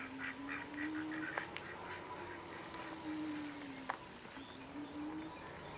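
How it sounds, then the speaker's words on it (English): Ducks quacking and honking at a distance amid a steady outdoor hum, with occasional sharp clicks, heard while riding a Freedare Eden; no one speaks. "Ducks everywhere."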